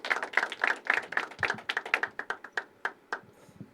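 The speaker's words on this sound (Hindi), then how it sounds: "मयूर के लिए एक बार जोरदार तालियां" Audience at a poetry open mic claps for the next performer, a burst of individual hand claps that starts dense and thins into scattered, slowing claps before fading out.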